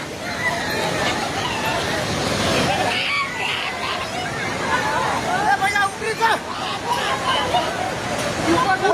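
The flooded Trishuli river rushing in a broad, continuous roar close by, with excited voices of several people talking and shouting over it throughout.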